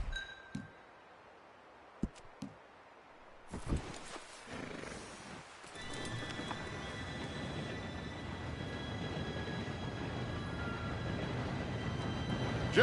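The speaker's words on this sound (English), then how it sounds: "Train should be here any minute now." A train arriving in the Western game Red Dead Redemption: scattered clunks, then a rising mechanical rumble with hiss and rattling that swells and keeps building to a steady, loud roar by the end, with no talk.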